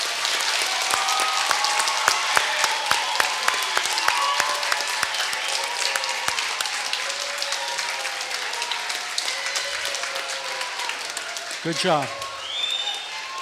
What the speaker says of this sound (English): I'd like to provide an applause for Josh and the job that he did.